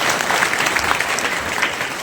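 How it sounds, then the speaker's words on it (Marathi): An audience at a devotional Marathi kirtan gathering applauds, dense sustained clapping from many hands filling the space without pause. "टाळी वाजवा दादांच्या"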